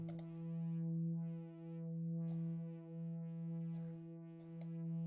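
A sustained synth note runs through two filters, each swept by its own LFO, so bright rasping peaks swell and fade at uneven moments as the sweeps cross, over a steady low tone with no talk.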